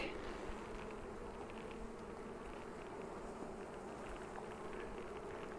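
Honey bees swarm inside a healthy, crowded nuc hive with its lid open, making a dense, continuous buzzing drone that holds steady and fairly close throughout.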